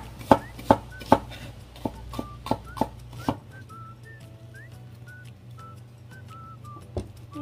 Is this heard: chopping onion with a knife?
yes